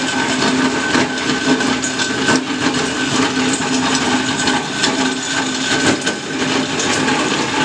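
A Patriot 600 adjustable nut cracker machine running steadily with its variable speed set, cracking nuts at a 5/8 inch gap, giving a continuous loud dense rattling and grinding clatter with no pauses.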